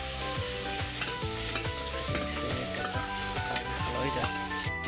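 Jackfruit curry with turmeric paste cooks in a pan, a constant close sizzle with periodic stirring scrapes, while tonal background music plays over it.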